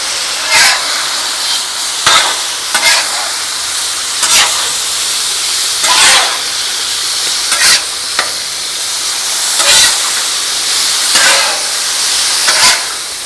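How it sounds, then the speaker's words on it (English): Chicken fajitas sizzle loudly on a hot Blackstone flat-top griddle, a constant close hiss broken by periodic bursts as the meat is stirred and flipped. "Listen to that sizzle."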